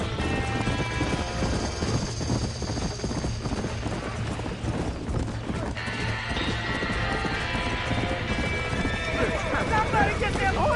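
Horses trapped in a burning barn neigh and whinny while hooves clatter and stamp, loud and close, amid shouting voices and crashing noise.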